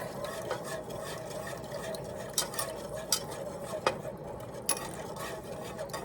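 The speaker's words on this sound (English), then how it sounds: "we'll just keep whisking this until it gets thick" A whisk stirs a cheese sauce of milk and cream for macaroni and cheese in a pan, making a quiet, steady scraping swish with occasional sharp metallic clinks against the pan.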